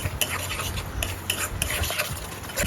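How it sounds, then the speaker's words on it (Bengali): Yogurt being stirred into an egg paneer curry masala in a pan, close scraping and clinking of a spoon against the pan in repeated strokes over a soft sizzle, with no voices. "এখন বন্ধুরা ভালো করে এটা কষাবো"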